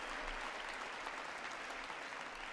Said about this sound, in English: Stand and clap.